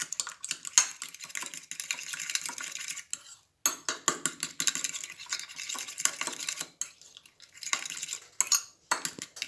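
Spring onions and noodles being tossed together in a frying pan produce rapid, clattering scrapes and clicks of utensil against metal in close, irregular bursts with brief pauses.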